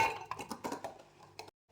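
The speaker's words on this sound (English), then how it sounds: "I'm going to pour 8 frozen and half strawberries." Frozen strawberries tumbling into a blender jar for a smoothie, a quick clatter of hard clinks and knocks over about a second and a half, close by, ending abruptly.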